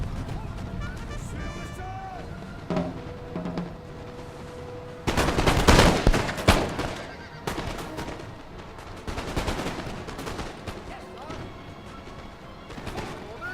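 Musket volleys in a Napoleon: Total War online battle crackle near and far, with a dense burst of gunfire in the middle amid battlefield noise and game sounds.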